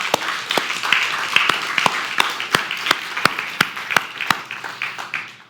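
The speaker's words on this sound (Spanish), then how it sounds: "Dale un aplauso al Señor" A church congregation at a Good Friday service claps, a steady mass of hand claps with sharp rhythmic accents standing out over the crowd, continuing for several seconds.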